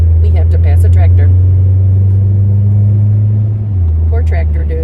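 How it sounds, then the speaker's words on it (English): A car overtakes a slow tractor on the road, with a loud, steady low engine and road rumble that shifts pitch near the end as the car pulls past. Voices talk over the driving noise. "We have to pass a tractor."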